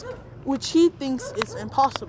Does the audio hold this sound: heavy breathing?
no